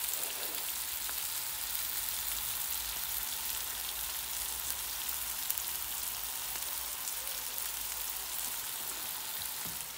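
Onion and green chili fry in hot oil for a vegetable biryani, a dense, steady, rain-like sizzle that runs continuously and fairly close, with no talk over it.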